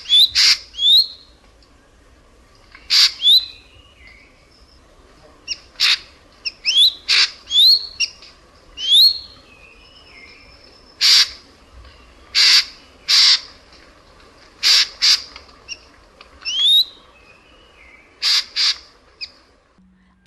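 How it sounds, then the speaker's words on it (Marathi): An ashy drongo, a winter visitor to the Western Ghats, calls at dusk with a long series of sharp, clear, close notes spaced by short pauses against a quiet background. "हा आहे पश्चिम घाटातील हिवाळी पाहुणा राखी कोतवाल"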